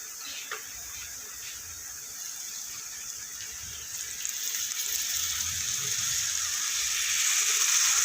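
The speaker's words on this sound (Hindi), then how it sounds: "अब इसमें थोड़ा सा पानी ऐड करेंगे" Water, about a glass's worth, runs into a spice mixture of coriander powder and other spices, a continuous splashing pour that grows louder and fuller over several seconds.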